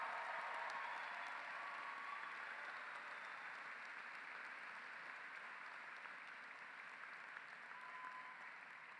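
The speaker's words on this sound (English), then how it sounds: "Let's give them a round of applause." A crowd at a high school graduation ceremony gives steady, continuous applause, heard fairly faint and distant as an even wash of many hands clapping that slowly tapers, with no talking.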